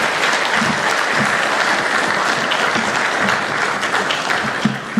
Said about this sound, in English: I think she deserves a better round of applause than that